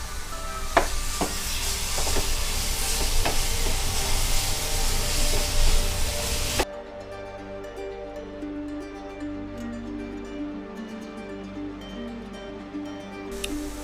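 Thick beetroot and jaggery mixture, flavored with cardamom powder, bubbles and hisses softly in a pan as it is stirred, a broad close sizzle that drops to a quieter, steadier simmer partway through.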